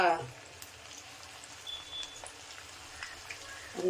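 Raw plantain slices frying in hot oil, a soft continuous crackle and patter with scattered pops, and brief speech at the start and end.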